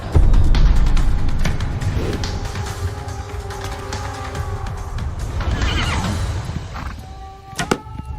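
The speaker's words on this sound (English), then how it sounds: "Horse archers were elite troops who galloped into battle, shooting their bows from the saddle" Horses whinny and neigh repeatedly among mounted archers in an Age of Empires IV battle. Hooves and thuds from the game mix in, and a burst of sharp clicks closes it.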